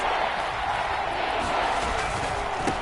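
Arrowhead Stadium crowd noise in a football video game, a dense continuous roar of many voices held at a steady loudness with a faint thump near the end.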